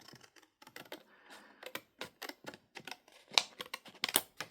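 A card being cut with scissors or a blade in several short, crisp snips and rustles, close and fairly quiet, with sharper clicks near the end and no talking.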